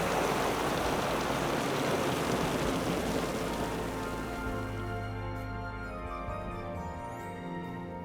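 Heavy rain falls at midnight, a steady dense wash of downpour that stays loud throughout while a low tonal hum and faint music gradually emerge beneath it in the second half.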